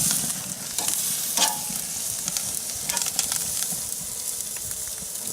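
Steak searing on a Big Green Egg grill at the reverse-sear finish, a steady close crackling sizzle with scattered pops and spits running throughout, no voices.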